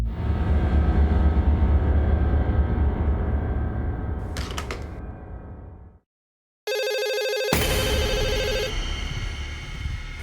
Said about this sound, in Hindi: आई एम सॉरी, मुझे फोन आ रहा है।